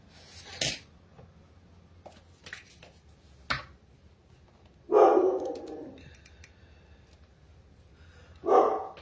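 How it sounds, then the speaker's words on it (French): A dog barking indoors in short, separate outbursts: a few sharp single barks early on, then two louder, fuller barks spaced several seconds apart, alone with no talk. "Je sais pas après qui il aboie, mon chien"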